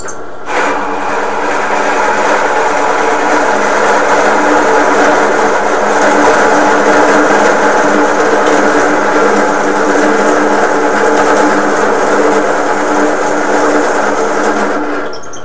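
A steady, loud mechanical whir of a drill press motor running continuously, with a constant buzzing drone and no talking.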